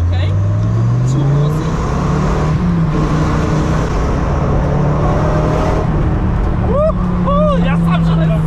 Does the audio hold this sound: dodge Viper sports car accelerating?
yes